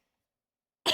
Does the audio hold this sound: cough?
yes